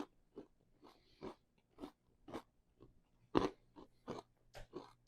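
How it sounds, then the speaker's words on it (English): Toasted croutons in French onion soup crunch between the teeth in a series of about ten crisp, close bites and chews, each a short, sharp burst separated by brief quiet. "Can you hear that crunch?"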